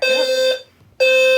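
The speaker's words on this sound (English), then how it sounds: "do not pull fire alarms in real buildings" An EST Fireshield fire alarm sounds loud and close during a system test, a steady tonal electronic horn that blares, cuts off for under half a second, then resumes at full level.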